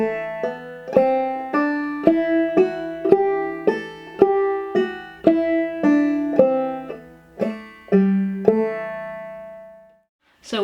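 Clawhammer banjo playing a scale with drop-thumb strokes and pull-offs, a steady sequence of bright plucked notes with ringing decays at a slow even pace, played alone and up close.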